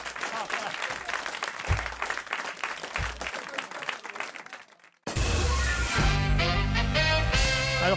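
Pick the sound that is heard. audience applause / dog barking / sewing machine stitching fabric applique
audience applause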